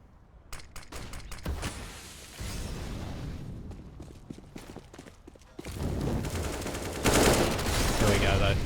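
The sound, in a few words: pistol gunfire in the video game Counter-Strike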